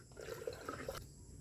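Water pours steadily into a 16-liter backpack sprayer tank, being filled to mix a spray for durian trees on a farm; a short, close gushing splash that cuts off abruptly near the end.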